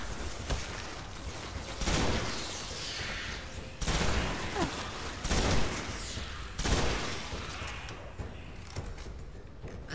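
Gunfire in the shooter Destiny comes in several loud bursts spaced a couple of seconds apart, each a dense rattle of shots, with quieter stretches between them.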